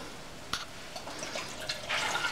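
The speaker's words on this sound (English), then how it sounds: "I'm gonna pour the whole can in there" A whole 12-ounce can of evaporated milk is poured out in a kitchen, a soft, faint liquid splashing and gurgling that builds slightly toward the end, close by with no speech.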